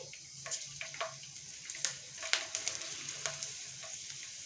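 Panch phoron, bay leaves and chopped garlic frying in oil for a beetroot pickle, a steady bright sizzle with frequent small pops and crackles, close and continuous.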